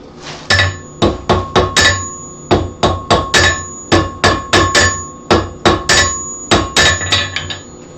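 Hot metal is hammered on an anvil to forge weld it, a loud run of sharp ringing blows in quick rhythmic bursts, each strike leaving a short metallic ring.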